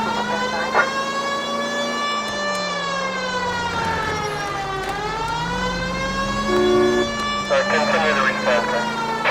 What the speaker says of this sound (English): I feel more comfortable with the siren on